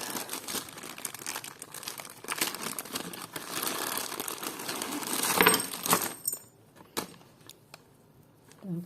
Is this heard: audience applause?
no